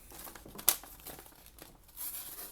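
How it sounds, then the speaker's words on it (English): Paper crinkles and crumples as a Hinderer XM24 knife cuts through it, with one sharp crackle early on and softer rustling around it, close and quiet. "I'm having a hell of a hard time with this paper."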